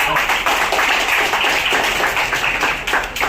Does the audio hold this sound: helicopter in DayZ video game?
no